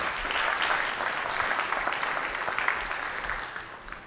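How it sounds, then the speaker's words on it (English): A crowd at a Microsoft SQL Server 2014 presentation applauds with steady, dense clapping throughout, fairly loud and sustained, slowly thinning toward the end. "You were too early on the applause because it wasn't finished yet."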